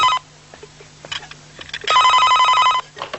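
A telephone rings loudly and close by with two electronic trilling bursts, a short one at the start and a longer one later, with quiet clicks and rustles in between.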